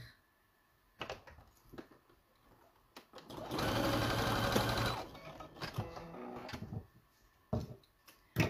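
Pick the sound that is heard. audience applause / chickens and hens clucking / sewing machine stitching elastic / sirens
sewing machine stitching elastic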